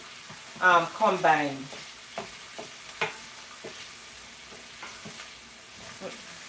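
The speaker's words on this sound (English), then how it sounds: "So I'm just continuing to saute this." Tinned callaloo being sautéed and stirred in a pan while cooking Jamaican fry dumplings, with soft scrapes and faint sizzling under a brief burst of speech near the start.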